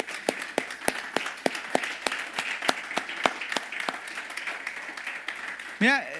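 A church congregation clapping in steady rhythmic unison, loud and close, with a brief voice cutting in near the end.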